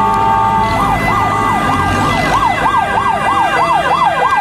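A toy ambulance's electronic siren wails in a steady repeating up-and-down cycle, loud and close, running alone without talk after a brief start.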